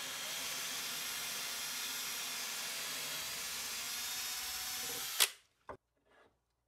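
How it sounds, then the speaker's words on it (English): A loud, steady whirring hiss of a drill boring a 1/4 inch hole through the end of a wooden block runs continuously, then cuts off abruptly with a couple of brief knocks. "drill a 1/4 inch hole through the end"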